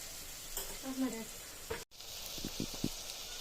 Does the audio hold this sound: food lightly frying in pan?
yes